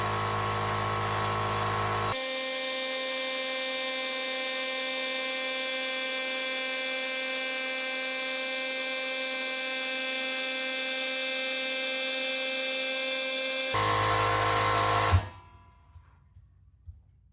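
Quiet air compressor running steadily with a smooth hum, its cord rattling against the tank, then the motor cuts off abruptly near the end, leaving near silence.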